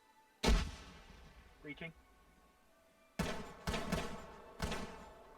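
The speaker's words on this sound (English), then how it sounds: "Flashbang out." M84 flashbang grenade in a tactical shooter game, several sharp, loud bangs with echoing tails, one early and a cluster of three later, with a brief spoken word between them.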